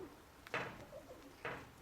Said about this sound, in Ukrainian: Он, Бач, воркує